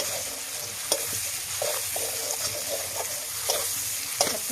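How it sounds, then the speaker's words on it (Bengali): Chopped tomatoes frying and being stirred in a pan for a meat ghugni dish, a steady close sizzle with a few sharp scrapes and clicks of the spoon spread through it, no one speaking. "আমি কেটে রাখা টমাটোগুলো দিয়ে দেবো"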